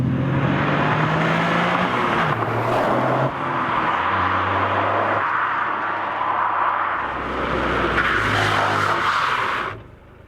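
A 2021 Toyota GR Yaris hot hatch drives hard on a race track, the engine revving up and dropping through gear changes, with loud close acceleration and deceleration sweeps before the sound cuts off.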